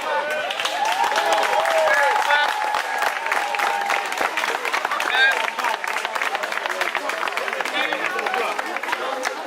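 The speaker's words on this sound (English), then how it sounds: "Brothers and sisters, give yourself a big hand." Audience at a Cypress Hills street rally and march claps and cheers, sustained close applause with crowd voices woven through it.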